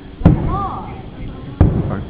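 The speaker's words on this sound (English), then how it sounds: "We're watching the fireworks." New Year fireworks, two sharp booming bursts about a second and a half apart, loud and close, with a faint whistling tone between them.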